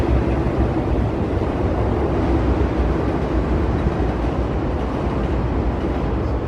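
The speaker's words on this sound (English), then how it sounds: "There's the L train there." Chicago L elevated train passing near Wabash Avenue: a loud, steady rumbling roar that holds its level throughout, with no voices.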